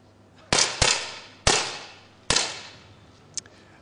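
Sharp, close pops from 10m air pistols at a 2008 ISSF World Cup women's event in Beijing, four crisp shots spaced under a second apart with short decays, then a faint click.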